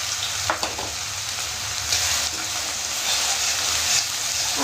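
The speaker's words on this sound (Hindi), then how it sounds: "अब हम डालते हैं इसमें प्याज" Chopped onion and garlic sizzling steadily in hot oil in a pan, with brief stirring scrapes; a close, continuous crackle with no talking.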